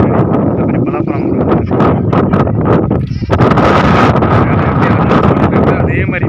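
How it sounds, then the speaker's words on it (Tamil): Strong wind buffets the microphone during a motorbike ride on a mountain road near Salem, a loud continuous rumbling roar that gusts and dips, with someone talking over it. "அப்படியே காற்று நல்லா வீசுது."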